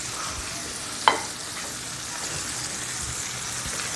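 Food fries in a stone pan with a continuous sizzle, and a knife pokes at it, making one sharp tap before the bubbling resumes.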